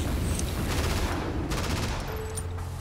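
Rapid gunfire in the zombie-shooter game Killing Floor, a dense, continuous barrage of shots close up and loud, running the whole time with a few brief bursts layered on top.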